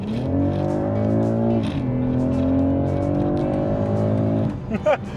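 A BMW X3 M50 accelerates from inside, its engine note climbing steadily, dipping once at a gear change and rising again, loud and smooth throughout.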